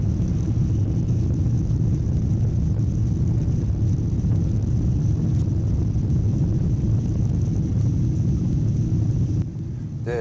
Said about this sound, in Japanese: で、着陸態勢、